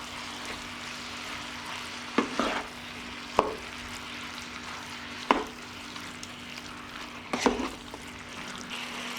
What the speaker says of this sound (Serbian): I dok se meso prži